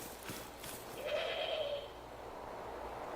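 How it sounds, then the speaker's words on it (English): Goat bleating in the hunting game The Hunter: Call of the Wild on its Scotland map, a single drawn-out bleat of moderate loudness rising briefly over steady game ambience. "I heard a goat."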